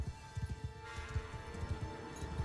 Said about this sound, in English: Don't lose my horses, my precious horses.